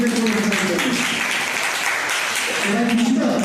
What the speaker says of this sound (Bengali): তার জন্য আরো একবার আমি জোরে হাততালি দিচ্ছি।